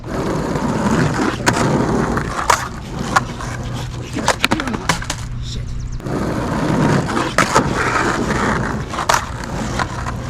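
A skateboard rolls along pavement while the rider does end over tricks, wheels rumbling steadily, broken by several sharp clacks and thuds as the board pivots and lands.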